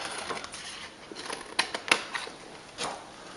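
Card paper being cut around a tiger image, a handful of quiet, irregular snipping and crisp cutting sounds heard close by, without speech.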